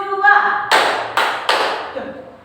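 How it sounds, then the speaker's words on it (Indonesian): Hand clapping during an icebreaker game at a gathering: three sharp, evenly spaced claps ring out close by, right after a short spoken cue, then a brief lingering tail. "Tepuk tangan 2."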